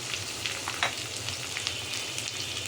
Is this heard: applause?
no